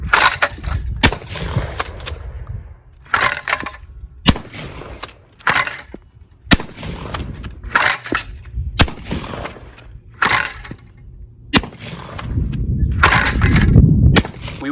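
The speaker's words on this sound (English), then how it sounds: "Let's fire a couple more rounds and see if this gets off." A Mossberg 500 or 590 shotgun firing repeatedly outdoors, a series of loud, sharp, close blasts at irregular intervals with brief echoes and handling noise between shots.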